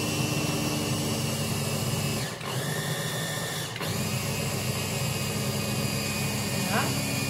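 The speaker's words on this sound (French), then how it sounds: "je suis en train de mixer les grains de sésame." A kitchen food processor grinds sesame seeds, a loud, continuous motor whir with two brief dips in pitch as the load shifts, running steadily throughout with a voice faintly present underneath.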